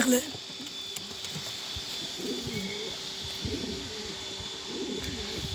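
Pigeons coo in a breeding coop in Adana, low soft calls recurring in short bursts under a steady hum, close by, with a voice talking at times.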